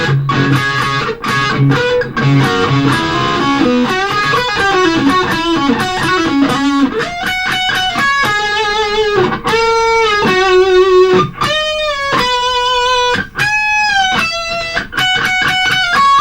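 Electric guitar solo played with distortion: sustained bending notes and quick melodic runs, loud and close, with no talking.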